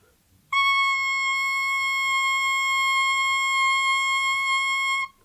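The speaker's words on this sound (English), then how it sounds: "So I have a little tuning fork here. We want it to be that note" A small tuning fork sounds a steady pure C tone, starting abruptly and holding clear and unwavering for about four and a half seconds before cutting off.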